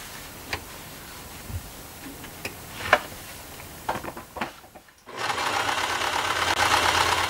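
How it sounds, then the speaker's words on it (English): A sewing machine stitches wool mitten fabric along drawn lines. Scattered clicks and handling taps come first, a short pause follows, then a loud, steady, close whir runs to the end. "your sewing machine, sew over the lines you drew"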